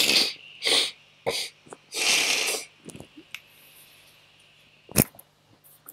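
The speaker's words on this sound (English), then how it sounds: "Oh, sniffle warning." Several wet sniffles and snorts from a person with a cold, loud and close, with short bursts of breath and a few small clicks and faint noises scattered between them.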